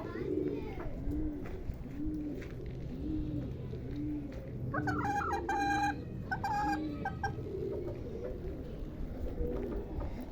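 Pigeons cooing at a zoo, a repeated rhythmic low coo heard close by while people chat nearby and other birds chirp briefly in the background.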